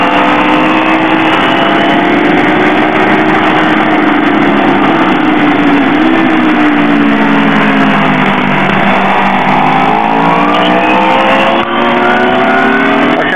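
Car engine revving hard and steadily after a quick downshift and throttle, loud and close with rising and falling pitch sweeps throughout, no talk over it.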